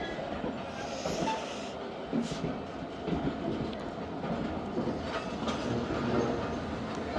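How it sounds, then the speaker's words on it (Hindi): A Khyber Mail passenger train pulling in to a station platform, its steady rolling rumble and faint rail clatter continuing throughout with occasional metallic squeaks and distant voices mixed into the station noise. "श्योर है जी प्लेटफार्म तक आई गई ट्रेन।"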